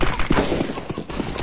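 Rapid bursts of gunfire in PUBG, several shots in quick succession, loud and close, with no talking.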